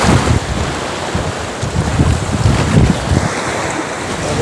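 Strong waves slap against a small fishing boat on Laguna de Bay near Los Baños, with heavy wind buffeting the microphone in a loud, continuous rumble and no talking.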